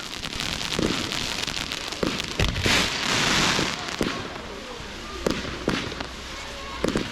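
Low-noise firework cakes fire coloured spit stars at an outdoor display, producing a dense, continuous crackle and hiss broken by soft repeated pops and thuds, with a voice talking over it at times.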